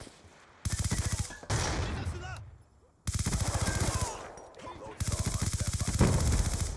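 Bursts of rapid automatic gunfire in a Call of Duty match, three long sustained volleys close and loud, separated by brief pauses and a moment of near silence, with a voice talking over the shooting.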